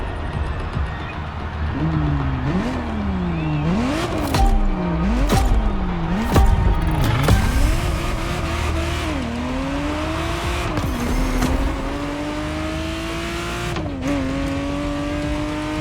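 Ferrari Testarossa engine driven in The Crew Motorfest racing game, revving up hard through repeated quick gear changes, then settling into a steadier climbing drone, loud and close without talk.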